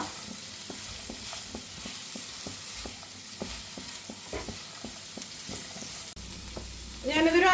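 Okra stir-fries on a high flame with a steady, moderate sizzle and a regular series of light taps and scrapes from a stirring utensil, before a louder burst of noise at the end.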